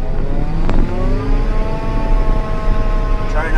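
A farm forage chopper's engine revs up loud and close, a steady mechanical roar with rising whine tones that climb through the first second and then hold, with a brief high squeal near the end.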